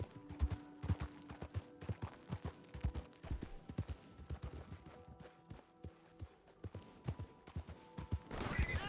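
Horse hooves clip-clop in a steady uneven rhythm through the RedM western roleplay game, close and moderately loud, with brief bursts of noise near the end.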